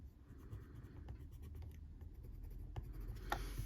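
Ivory coloured pencil slowly burnishing over orange colour on paper, a soft continuous dry scratching with faint strokes, close and quiet throughout.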